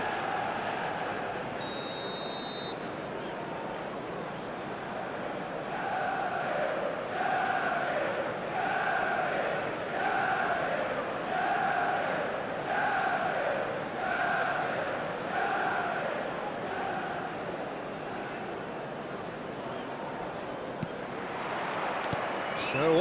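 Stadium crowd noise in an eFootball match between Manchester United and Inter Milan: a steady wash of distant crowd roar with rhythmic chanting swelling in repeated waves, under commentary.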